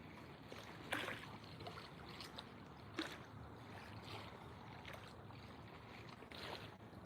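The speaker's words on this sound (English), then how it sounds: "The waves, you can hear them all." Waves wash against an outdoor shoreline on a morning walk, a steady low rush with a few louder breaking swells, heard alone without talk.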